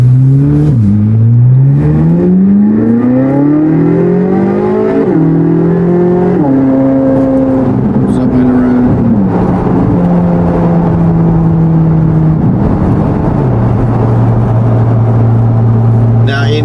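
A loud Corvette C8 Z06 engine climbs through the gears, its pitch rising then dropping at each shift, with a sharp screaming exhaust roar from a new exhaust heard from close up.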